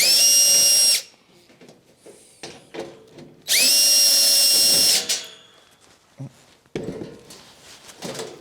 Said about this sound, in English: for this last piece, I'm going to remove one of the screws